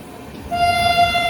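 A passenger train stopped at platform 1 of a station sounds its horn, a single loud sustained toot that starts suddenly and holds steady over faint background noise.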